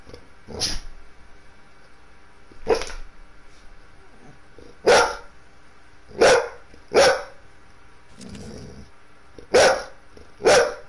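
Dog barking in loud sharp bursts, about eight barks spread unevenly over roughly ten seconds, close by, with low background noise between them.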